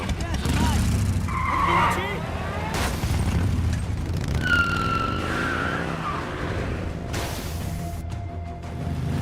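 A motorcycle skids and roars during a police chase in the video game Beyond: Two Souls, with squealing tyre sounds and a wailing siren mixed with engine noise, and a voice talking over the game audio.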